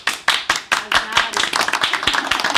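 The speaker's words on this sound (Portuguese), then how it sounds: "Só palmas pra isso." A burst of hand clapping from a small group at a panel discussion, irregular and fairly close, with a few voices mixed in.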